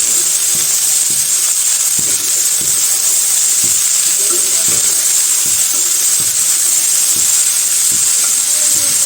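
Potatoes frying in a pan, seasoned with turmeric and salt, give a steady close sizzle and hiss with scattered soft clicks of stirring throughout.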